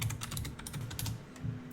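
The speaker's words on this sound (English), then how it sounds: "Warning for the typing noises." Rapid typing on a computer keyboard, a steady close patter of key clicks with no voices.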